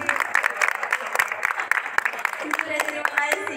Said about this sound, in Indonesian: tepuk tangan buat Mbak Fajri.